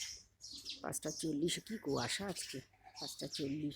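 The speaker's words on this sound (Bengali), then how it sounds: "কিচকিচ কিচকিচ করছে পাখিগুলো।" Small birds chirp and tweet faintly on a foggy morning, with brief high calls scattered beneath a person talking nearby.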